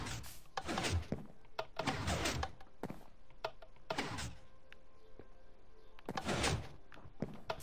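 A redstone-powered door in Minecraft opening and closing, giving several loud, whooshing thunks spaced a second or two apart against a steady background hum, with no speech.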